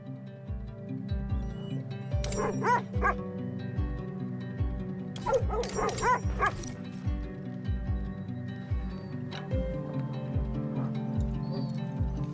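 Dogs barking and yipping at feeding time in the video game The Red Lantern, several sharp bark bursts over a steady droning game music bed, with faint clopping and whinny-like sounds mixed in.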